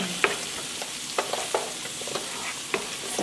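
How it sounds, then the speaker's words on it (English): Onions and garlic sauté in oil or butter in a pan, a steady soft sizzle carrying several sharp clicks and scrapes of a utensil stirring, close and alone. "we're just going to saute that in there, along with the garlic"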